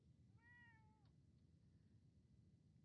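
A cat in the Fallout 4 video game gives a single faint, drawn-out meow over quiet background hum, followed by a sudden loud sound at the very end.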